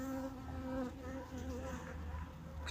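A colony of aggressive honey bees fills a hive during winter at an apiary near Rome, Italy, with a steady, close, droning buzz throughout.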